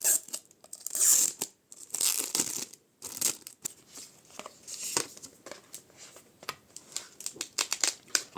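Wrapping being torn and crinkled while unpacking a gift planner, irregular close rustling, ripping and crumpling bursts with short pauses between.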